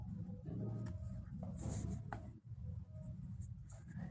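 Pen writing a heading by hand on paper during an accountancy lesson on a balance sheet extract, a steady scratchy stroking that runs for a few seconds with a brief pause midway.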